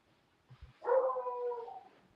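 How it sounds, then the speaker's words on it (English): A small dog, a Maltese and Shih Tzu mix, gives two short low yips and then a drawn-out whimpering howl. It is fairly close and heard on its own. "that's my dog in the background"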